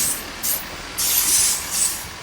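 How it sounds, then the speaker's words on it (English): A decelerating GWR push-pull train bound for Exeter rushes past near the Exe estuary with a hissing, airy roar that swells and fades in uneven pulses, a steady whoosh of wheels and wind. "a train's about to go by"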